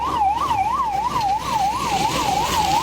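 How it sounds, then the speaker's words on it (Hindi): A wailing ambulance siren rises and falls in a steady, rapid cycle, loud and continuous, with faint traffic rumble beneath. "एम्बुलेंस"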